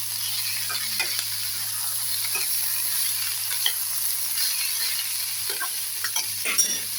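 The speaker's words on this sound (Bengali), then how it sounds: "থোড়টা দিয়েও আমি একটু সব মশলা দিয়ে ভালো করে এর সঙ্গে মিশিয়ে নেব" Chopped banana stem fries with spices in a pan under a faint, steady sizzle, with soft scattered scrapes and clinks of a spoon stirring it, near but quiet and with no talk.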